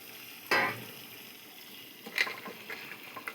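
Potato being stir-fried in a spice masala, quiet sizzling broken by a few brief scraping and clinking stir sounds from a close pan.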